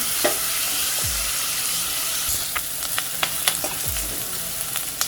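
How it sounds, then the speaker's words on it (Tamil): Onions sautéing in a pan for a white vegetable kurma, a steady close sizzle with several sharp scraping stirs of a utensil at intervals, no talk. "வெங்காயம் கொஞ்சம் வதங்கிட்டோம்."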